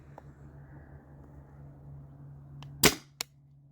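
A Tippmann paintball marker fires two sharp, loud pops about a third of a second apart, over a steady low hum and otherwise quiet surroundings.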